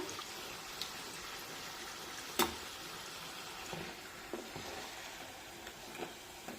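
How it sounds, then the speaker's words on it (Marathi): Fasting potato puri fries in hot oil with a soft, steady sizzle and faint crackles, quiet and close, with one brief sharper pop early on. "आता पलटून घेऊया आणि दुसऱ्या बाजूने सुद्धा पुरी छानपैकी तळून घेऊया"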